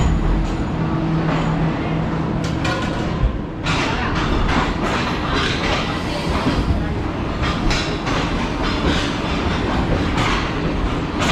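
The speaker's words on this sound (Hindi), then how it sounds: "ट्रेन हमारी मूव होना शुरू हो चुकी है रोड़ी जंक्शन रेलवे स्टेशन से" A passenger train on the Shalimar Express route pulls out of Rohri Junction station, its loud, continuous rumble and rhythmic wheel clatter surrounding a voice talking over the noise.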